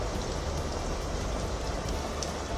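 Heavy monsoon rain pours steadily in Mumbai, a dense, continuous hiss and patter of drops on surfaces with no break, loud and close throughout.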